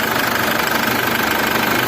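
The diesel engine of a Chevrolet Captiva runs at a steady idle with a dense, even knocking clatter, heard close and loud with no voices over it.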